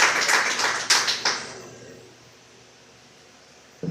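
A church congregation claps briefly during a sermon, the applause fading away within a couple of seconds into quiet room tone.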